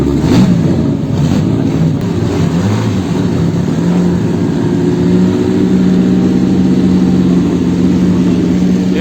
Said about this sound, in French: Départ de la Ford.